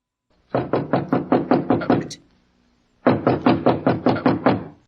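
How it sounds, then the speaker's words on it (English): Two bursts of firm knuckle raps on a wooden door, about seven quick knocks, a pause of roughly a second, then another even run of knocks, close and loud against a quiet room. "Then, squaring his shoulders, he knocked."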